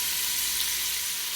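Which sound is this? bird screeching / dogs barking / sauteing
sauteing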